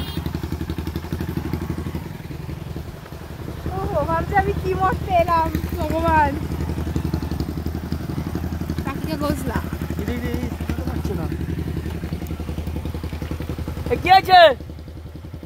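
A motorcycle engine on a riverside boat crossing in the Sundarbans keeps up a steady low rumble throughout, under close conversational speech and a few clattering knocks.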